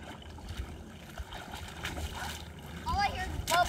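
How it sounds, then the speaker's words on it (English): Bubbles gurgle and splash in the water around a remote-control car, muffled and uneven, growing louder with sharper bubbling bursts toward the end. "All I hear is bubbles."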